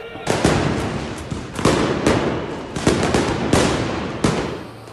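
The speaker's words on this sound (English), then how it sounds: "Whistling, clapping, blowing vuvuzelas, cracking fireworks." Fireworks crack at a nighttime street protest outside South Korea's parliament, sharp bursts going off in irregular clusters, loud and close, over a noisy crowd background.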